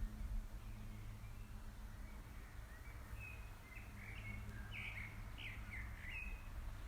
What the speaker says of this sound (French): Laissez-vous aller au chant des oiseaux.